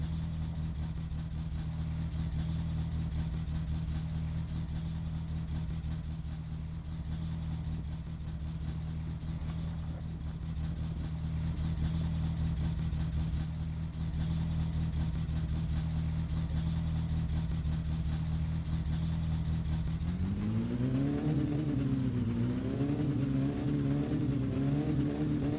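A Satsuma car engine in My Summer Car, fitted with a racing carburettor, idles with a steady low drone while warming up, then revs in rising and falling bursts near the end.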